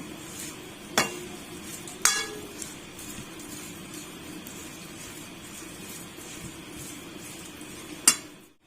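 Food in a pot is stirred and mixed, with a soft steady background hiss and three sharp metallic clinks of a spoon against the pot spaced across the stretch.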